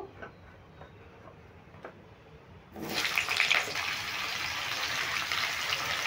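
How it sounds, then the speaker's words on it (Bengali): Potato pieces dropped into hot oil for a Bengali vegetarian jackfruit and paneer dish burst into a loud, steady sizzle after a few quiet seconds, the crackling hiss holding strong to the end. "তেলটা গরম হয়ে গেছে, প্রথমে আমি আলুটাই ভেজে নেব।"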